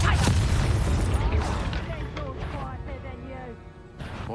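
A Bombarda spell detonates in Hogwarts Legacy with a loud, close blast near the start, its rumbling boom decaying slowly while game voices talk through the tail.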